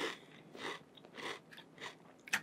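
Someone chewing a crunchy snack spread with garden vegetable cream cheese, four or five quiet, close bites and chews in a regular rhythm, with a crisp crunch at the end and no talking.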